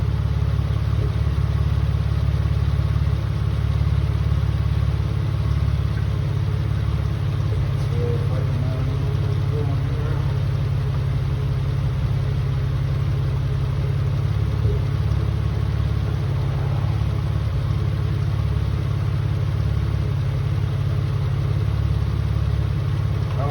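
A Mitsubishi 3000GT VR4's new engine idles after its first start with a steady low rumble and even hum that holds throughout, with a voice occasionally talking over it.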